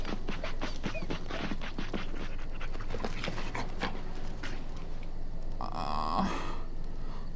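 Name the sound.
dog panting in Dragon Age Origins video game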